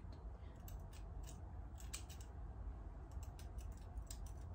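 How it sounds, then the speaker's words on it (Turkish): Dull scissors snipping hair during a home haircut, giving quiet, repeated close metallic snips in an irregular rhythm over a low background hum. "Ay bu makas kesmiyor işte ya."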